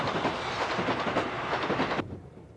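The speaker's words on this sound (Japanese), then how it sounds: "おしんは一人で北へ向かって走る列車に乗っていた。" A train runs along the rails with a rhythmic clickety-clack and rumble, loud and close, before cutting off abruptly near the end.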